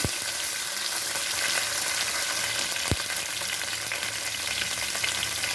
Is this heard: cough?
no